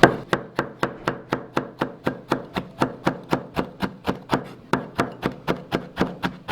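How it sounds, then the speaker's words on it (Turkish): Green peppers chopped finely with a knife on a board for tarhana, a steady rapid run of about twenty sharp, evenly spaced thuds, close and clear with no talking. "Bunları da diğerlerinde olduğu gibi ince ince doğrayacağız."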